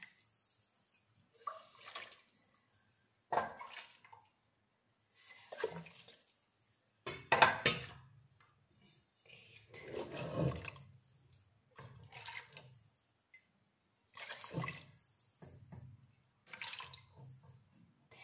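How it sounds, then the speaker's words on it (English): Water splashes into a cooking pot in short, intermittent pours, with soft clinks of the pot between quiet pauses. "Let's take 11 cup of water and put it here."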